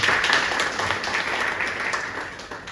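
Steady, dense applause from a crowd at a leadership development program, many hands clapping together at an even level throughout with no pause.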